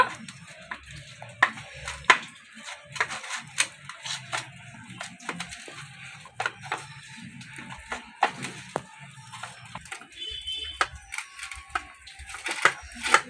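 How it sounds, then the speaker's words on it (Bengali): Semolina dough is kneaded by hand with ghee for rasgulla, making irregular soft squishing and pressing sounds with scattered sharper taps, close and quiet throughout. "এবার আমি এই ডোয়ের মধ্যে আমি ঘি দিয়ে দেব। এবার আমি এটাকে সুন্দর করে মেখে নেব।"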